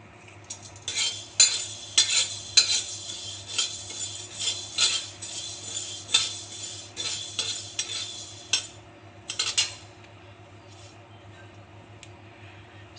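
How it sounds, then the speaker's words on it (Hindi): Fenugreek seeds roasting in a dry pan for traditional mango pickle, stirred with a utensil: repeated scraping and light rattling strokes in irregular bursts, fairly close, tapering off into quiet near the end. "अब हम इसमें मेथी भूनेंगे।"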